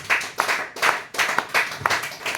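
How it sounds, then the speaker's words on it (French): A church congregation claps in unison to acclaim the Lord Jesus Christ, a close, steady rhythm of sharp claps at about three per second, with no talking over it. "On acclame le Seigneur Jésus-Christ."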